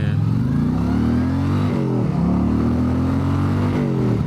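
An Indian motorcycle built as a Street Glide-style bagger is heard while riding, its engine droning steadily with rising and falling revs and wind noise around it.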